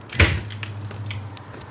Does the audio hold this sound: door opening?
yes